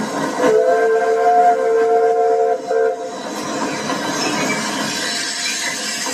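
Mary Ann, one of the first diesel locomotives built by Motorrail in 1917, works a shuttle, sounding sustained horn-like tones before settling into a steady, loud mechanical rumble.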